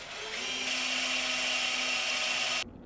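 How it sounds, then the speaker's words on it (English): A power drill with a large Forstner bit bores around an existing hole in scrap mahogany, a steady high whirring grind that holds for over two seconds before cutting off abruptly. "I tried to drill around a pre-existing hole to see how bad it would skate"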